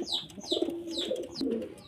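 Racing pigeons coo in soft repeated phrases, close by, several overlapping calls across a short stretch with no talking.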